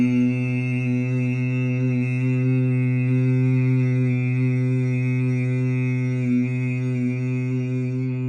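A strong Brahmari bee-breath exhale, a steady, close, sustained hum with rich harmonics and little variation.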